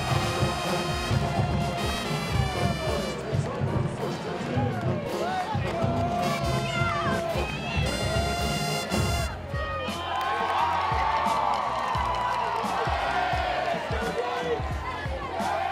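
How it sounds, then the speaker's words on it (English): Loud Wake Forest crowd roaring and shouting in stadium stands, many voices overlapping in a sustained wall of noise, with whistles and cheers rising throughout. "already raucous Wake Forest crowd"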